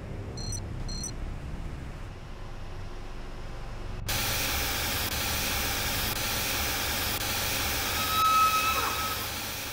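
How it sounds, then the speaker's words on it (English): Steam vents in a sustained loud broadband hiss in the Telltale Jurassic Park video game, starting abruptly after a few faint beeps and continuing steadily without speech. "The steam has been vented."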